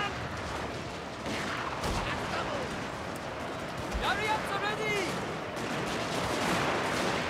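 Musket and rifle fire from a Total War: Fall of the Samurai battle at Nagaoka, scattered pops and volleys crackling amid a dense, continuous battle din with distant shouting.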